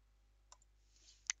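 Soft, close mouse clicks on a quiet computer setup, a light click followed a moment later by a sharper, brighter one, with near silence around them.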